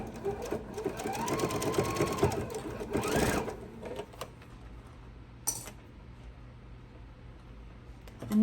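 A sewing machine stitches an apron ruffle in short bursts, with a whirring run in the first few seconds followed by quieter handling, fabric shuffling and a sharp clink.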